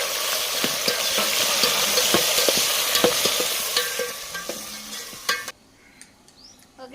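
Onions, green chillies, potatoes and tomatoes fry in a pan while being stirred, making a loud, close sizzle broken by repeated scraping spoon strokes, before the sizzle cuts off abruptly near the end, leaving faint clatter.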